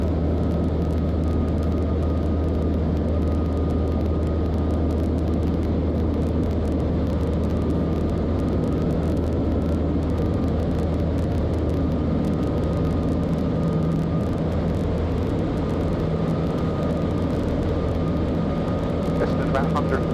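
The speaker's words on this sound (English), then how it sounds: "This thing has to kind of bleed off the speed." Steady drone of a small aerobatic airplane's engine in flight, heard loud and continuous from inside the cockpit as the aircraft slows down from a faster pass, with a faint high tone running underneath.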